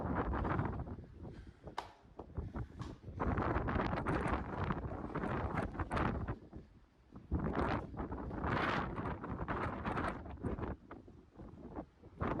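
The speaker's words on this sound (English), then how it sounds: "It's windy at the top, even though I'm in a little structure." Strong wind buffets the microphone at the top of a hill, heard from inside a small shelter along US 50, with loud, steady roaring gusts that swell and ease throughout.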